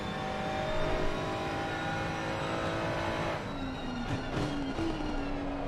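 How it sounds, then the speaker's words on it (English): Ferrari in a racing video game at an SFR GT Challenge event, engine roaring along then dropping through the gears with rapid downshifts, exhaust pops and crackles breaking through near the end. "the lovely downshifts that you hear, the exhaust popping and crackling as he plummets down the gears"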